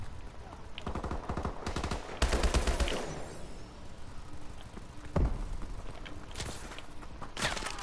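Blunderbuss Dragonfire gunfire in Call of Duty Advanced Warfare, loud repeated shotgun-like blasts with heavy bursts and game action noise between them.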